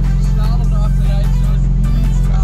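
BMW M3 Competition F80 with M-Performance parts, heard from inside while driving: a loud, steady low engine drone with a faint rising pitch toward the end and no voices.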